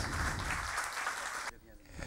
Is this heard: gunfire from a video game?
no